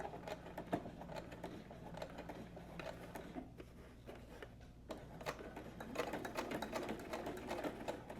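A sewing machine runs steadily as it stitches across a thick strap on a fabric diaper pouch, its fast mechanical clatter quiet and even throughout.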